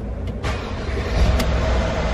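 Mercedes-Benz car engine, after crankshaft and camshaft sensor replacement, turns over and settles into a loud low rumbling idle, close up, over a short stretch.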